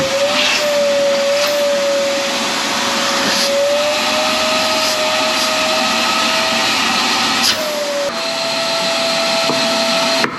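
A vacuum running steadily and loudly throughout a hydraulic cylinder repair on a WABCO machine, its motor whine holding one tone with slight pitch shifts and a brief dip before resuming.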